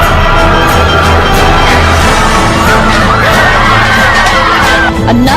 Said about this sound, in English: The mad dash into a Walmart store knocked shoppers to the ground near Grand Rapids, Michigan at 5 in the morning